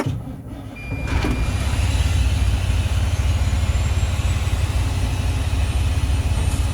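The Detroit Series 60 diesel engine of a 2007 Western Star 4900FA truck swells up and settles into a loud, steady, low idle rumble close by, with no voices.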